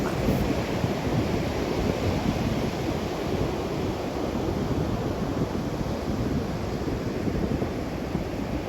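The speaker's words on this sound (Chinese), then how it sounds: "看它这样扑过来，那个海浪就像千军万马。" Sea waves rushing onto a beach as the tide comes in fast, a loud, close, continuous roar of surf with wind buffeting the microphone.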